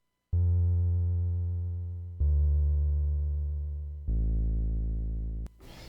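A synth bass in FL Studio plays three long sustained notes, each with volume automation that makes it fade downward, followed by a short burst of noise at the end.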